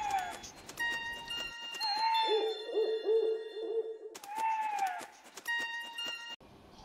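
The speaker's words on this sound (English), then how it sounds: "Yes, it is owl." Owl hooting in a series of soft, low, evenly spaced hoots, set between bursts of music and chimes from a children's cartoon about birds.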